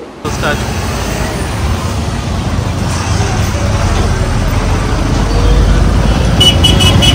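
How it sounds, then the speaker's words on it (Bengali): Road traffic streams past after a railway crossing opens in Birbhum, West Bengal, a continuous loud rumble of cars, buses and trucks with brief horn toots near the end. "রেল লাইন খোলার পরে ট্রাফিক।"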